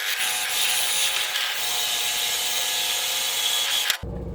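A power drill bores pickup holes into a solid wood guitar body, producing a loud, continuous grinding whine with a rough edge that cuts off abruptly near the end.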